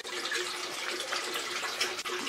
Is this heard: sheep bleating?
no